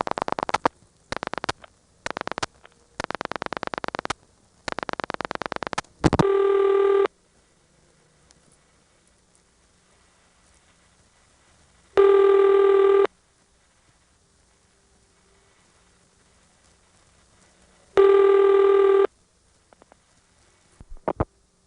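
A step-by-step telephone office at Cole Ridge, Randolph Telephone, reached over T-carrier trunks, gives rapid dial pulses and clicks followed by three evenly spaced, buzzy tonal rings separated by long silences.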